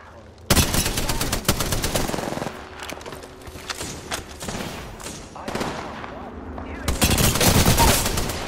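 Rapid bursts of automatic gunfire from enemies in the video game Apex Legends, loud and dense, with sharp repeated shots clustering at the start and again near the end and scattered cracks between.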